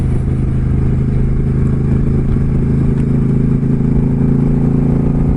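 An Indian Springfield motorcycle cruises a twisty, shady road, its engine a loud steady close rumble with a low throbbing drone and wind noise that never lets up.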